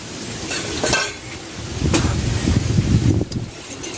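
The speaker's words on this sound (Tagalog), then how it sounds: "Makas ng hangin, no?" Strong early-morning wind blows outdoors, buffeting the microphone in uneven roaring gusts that rise and fall over a few seconds.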